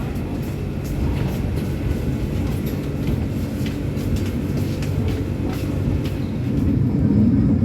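Steady, loud rumble of the Ranggajati executive-class passenger train heard from inside the carriage while running, with faint rail clicks and a slight swell near the end.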